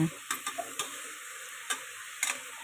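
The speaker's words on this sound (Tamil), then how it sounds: "தக்காளி கட் பண்ணி வச்சுருக்கிறது சேர்த்து நல்லா வதக்கி விட்டுக்கிறேங்க" Tomatoes and garlic sautéing with onions in a pan, a soft continuous sizzle broken by several quick scraping stirs, close and fairly quiet.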